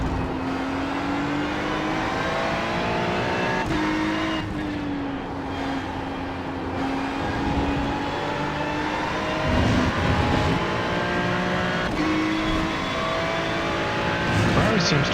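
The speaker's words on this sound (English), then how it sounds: "Ferrari seems to really respond well to leaving it in the higher gears for acceleration." Ferrari Challenge race car lapping in a racing video game, held in high gears: a loud sustained engine drone that rises steadily in pitch and dips briefly at gear changes, with a voice talking over it at times.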